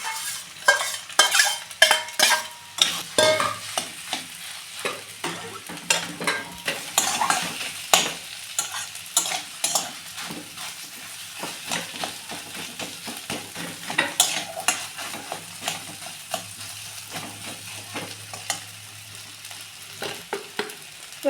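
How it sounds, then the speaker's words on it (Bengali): Mashed potato filling for popcorn momos fries lightly in a pan, with constant close spoon stirring, scraping and tapping in an uneven rhythm over a soft, continuous sizzle. "এটাকে একটু হালকা ভাজা ভাজা করে নিতে হবে"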